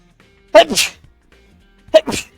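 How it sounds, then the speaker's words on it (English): Two sharp, close sneezes, the second about a second and a half after the first, with quiet in between. "Oh, I gotta sneeze."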